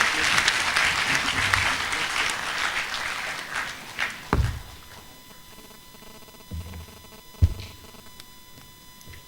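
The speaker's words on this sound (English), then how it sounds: "Can we please appreciate the valedictorian with another round of applause?" Applause for a valedictorian at a graduation ceremony comes in a dense burst early on, then thins to scattered claps and a few knocks and thumps in a quieter hall.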